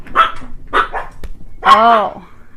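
Dogs excited by a package from the mailman bark indoors, several sharp, close barks in quick succession followed by a longer, whining yelp-like bark, with a brief knock or thud in between.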